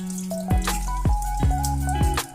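Water running into a toilet tank with a weak flush fault, heard as a steady trickle with repeated drips and plops about every half second, close and clear with no talk.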